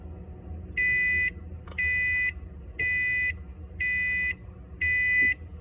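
Electronic alarm beeping from a phone or a fridge whose door has been left open too long, five steady evenly spaced tones about a second apart over quiet indoor room noise.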